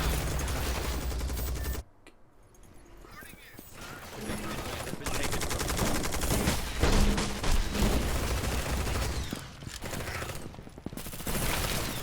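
Video game gunfire from the shooter Eximius: Seize the Frontline, with dense rattling automatic bursts and mechanical clatter running nearly the whole time, broken by a couple of brief lulls.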